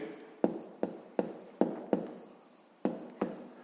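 A pen writes by hand on paper during a fifth-grade maths exercise: about eight short, distinct scratching strokes in an uneven rhythm, quiet and close.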